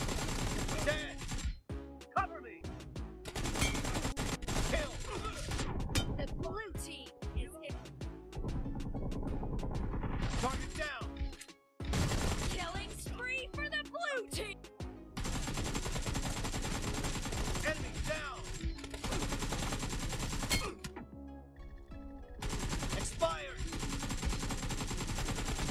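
Gunfire in a team deathmatch video game round: dense bursts of automatic weapon fire and single shots over a steady mix of game sound and music, with brief drops in between.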